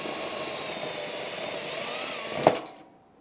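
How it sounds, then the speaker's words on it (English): A power drill drills out rivets on the bumper cover of a 2014-2018 Mazda 3 during grille replacement, giving a steady, close whine for about two and a half seconds that ends in a brief sharp clunk before falling silent. "we also have a few rivets that we're going to need to drill out"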